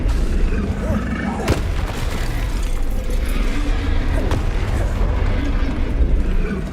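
Booming blasts from a Confringo explosive spell in Hogwarts Legacy, loud and repeated with sharp onsets, rumbling under a dense wash of game sound.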